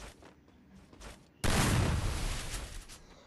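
UMP submachine gun fire in the Free Fire mobile game: a sudden loud burst of rapid shots that stays dense and then slowly tapers off, after a second or so of quieter game ambience.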